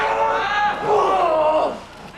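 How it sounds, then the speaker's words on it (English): Wrestling crowd at an FMW event cheering with scattered clapping, a loud swelling roar of voices that rises and falls over a couple of seconds. "the audience shows their appreciation in their own, golf clap kind of way"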